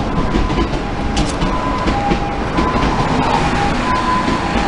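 A Tsurumi Line electric train in Japan runs steadily nearby, its wheels clattering over rail joints under a loud, continuous rolling rumble, with faint squeals and no voices.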